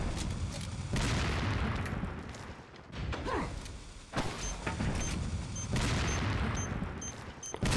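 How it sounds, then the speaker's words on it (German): Loud, booming blasts and rumbling explosions fill the video game Resident Evil 4 in repeated bursts, with dense low-end roar and brief quieter gaps between them. "das war ein bisschen viel Explosion"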